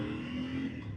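A motorcycle cruising along, its engine giving a short, steady low drone with some wind noise.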